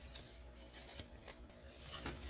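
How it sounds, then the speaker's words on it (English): Scissors cutting around the curves of a printable folded paper tag, with quiet snipping and rasping that stays faint and steady, broken by a few soft sharper cuts close by. "rotate the tag, not your scissors, as you cut around the curves"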